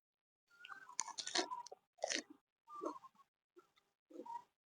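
Pork being chewed during a meal, heard up close as five or six short, separate bursts of wet, crunchy mastication against a quiet background.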